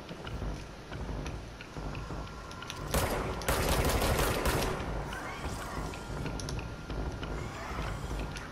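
Rapid gunfire from a shotgun in the video game Control, a dense burst of shots bunched across the middle, loud and close over a steady background of game noise.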